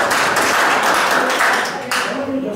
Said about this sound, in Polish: Na przykład można to brawa.